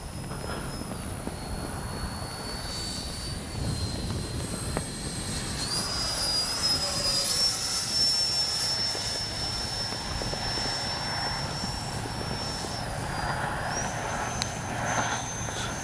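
E-flite Viper 64mm electric ducted-fan RC jet in flight, a steady high-pitched fan whine that rises and shifts in pitch as it passes, heard outdoors alone without talk.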